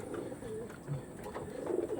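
Chennai breeder pigeons coo in soft, throaty rolling calls, a few overlapping close by against a steady low background of the flock.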